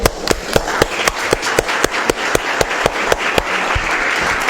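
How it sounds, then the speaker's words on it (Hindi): Applause for children at an international Hapkido championship in a Delhi stadium, with crowd clapping mixed with sharp, regularly spaced loud claps that run steadily throughout. "इन बच्चों को तालियां बजा के"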